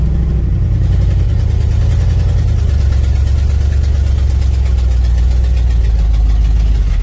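A 1966 Ford F100 pickup engine rumbles loudly and close up as the truck is put in gear and pulls away, a deep steady drone with a slight rise in pitch, no voices over it.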